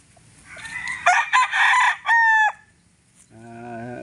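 Joe Black gamefowl rooster crowing close by in a rooster cording area, one loud crow with a drawn-out ending, followed by a quieter clucking call.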